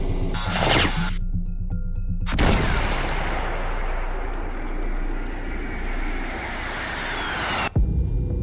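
A pair of Maverick missiles launches with a loud whooshing roar that sweeps and fades, followed by an abrupt cut, in a short action film with no talk.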